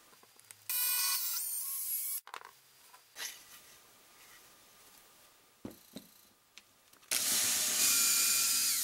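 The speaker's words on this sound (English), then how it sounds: "I'm going to be boring it out with a countersink anyway" A power drill bores a screw hole with a countersink bit in wooden pole pot slider parts, whirring in two loud bursts at the start and end, with quieter handling knocks and clatter in between.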